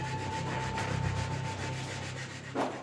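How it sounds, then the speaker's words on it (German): Rails of a model railway being sanded to roughen them, a steady close scraping rub that continues without pause for a few seconds before a short louder scuff at the end. "Die Modellbauer schleifen die Schienen an, in der Hoffnung, den Zug abbremsen zu können"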